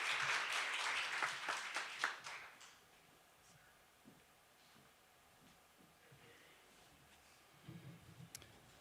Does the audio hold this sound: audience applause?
yes